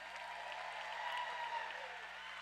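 Roller derby spectators applaud officials before a Wreckers versus Emerald City bout, a steady, moderately distant clapping that holds evenly across the moment.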